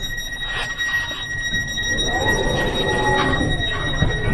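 A train at Lugano station in Switzerland, with a steady high-pitched electrical whine and rising wheel squeal building over a rumbling platform background, fairly close and loud.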